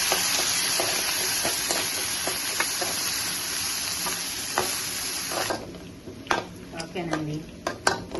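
Okra fries in a pan for a tomato curry. A close, constant sizzle carries clinks and scrapes of a utensil against the pan. The sizzle then drops away, leaving a few louder metallic knocks and stirring sounds.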